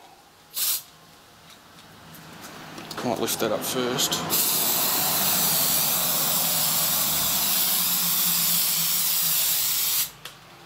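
Spray adhesive hisses from an aerosol can in a loud, continuous close-up jet lasting several seconds, after a short initial burst and some handling noise, with a voice speaking briefly before the long spray.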